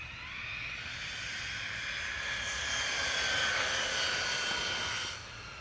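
A Losi 8ight RC truggy runs along a road at full speed, its motor a steady high whine that swells as it nears and then drops away, heard alone with no talking.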